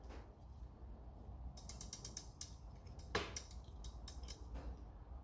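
A brake line flaring tool being tightened, giving bursts of close ratcheting clicks and gear-like mechanical clatter in several quick runs, with one sharper snap near the middle.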